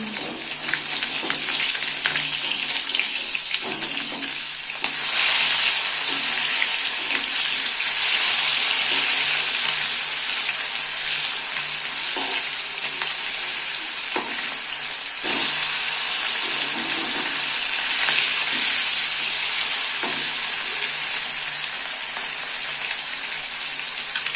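Fish frying in a pan gives a steady, loud hiss and sizzle that carries on without a break, with a few faint clinks underneath.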